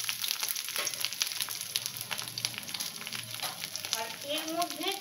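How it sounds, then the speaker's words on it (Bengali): Bitter gourd sizzles steadily in hot oil in a pan as it is stirred, a dense close crackle running throughout, with a brief voice rising toward the end. "এবার আমি এই উচ্ছেগুলো দিয়ে দেব। উচ্ছেগুলো দিয়ে একটু নাড়াচাড়া করে দিলাম।"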